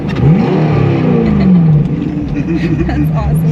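A 1,000+ hp twin-turbo Corvette engine revs hard up and back down, loud and close, its pitch rising and falling through a few surges with faint voices beneath.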